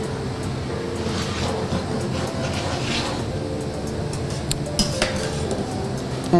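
Pasta with tomato sauce and aubergine tossed in a pan in a restaurant kitchen in Taranto, giving a steady sizzling scrape with sharp metallic clinks of utensils against the pan, close and continuous.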